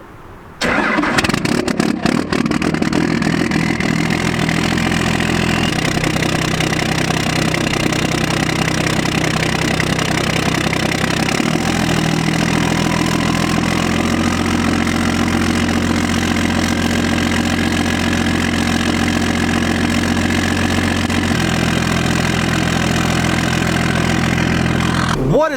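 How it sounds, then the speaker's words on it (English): A 12-valve Cummins diesel cold-starts right at the exhaust tailpipe, cranking briefly and then settling into a loud, continuous, rumbling idle. "we haven't done a cold start from the exhaust tailpipe end for a little while"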